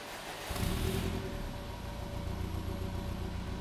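A rare 2002 Subaru Impreza Tommykaira M20B, about 53,000 km, idles with a steady low engine drone and faint hiss, moderately quiet and continuous after a brief start.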